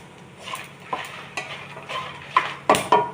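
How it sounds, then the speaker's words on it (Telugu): Cumin, coriander seeds and dried red chillies roasting in a dry pan give soft rustling scrapes and stirring knocks, with a few louder clinks of the spoon against the pan toward the end. "ఇప్పుడు జీలకర్ర, ధనియాలు కూడా వేయించాం. ఎండుమిర్చి వేగినాయి."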